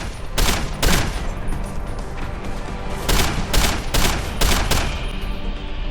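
Bursts of gunfire in the video game Deus Ex: Human Revolution, loud rapid volleys of shots in several clusters over a continuous din of combat noise, with no talking.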